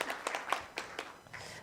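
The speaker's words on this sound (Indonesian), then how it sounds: "Tepuk tangan dulu dong untuk Pak Dir Krimsus kita." Scattered applause from a focus group discussion audience for a police Director of Special Crimes, a sparse patter of individual claps in an uneven rhythm, fairly faint and thinning out.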